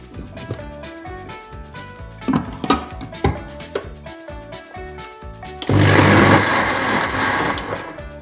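A kitchen mixer grinder coarsely grinds coconut chutney with curry leaves: scattered clinks and knocks come first, then the motor kicks in with a loud, steady whirring roar for the last few seconds.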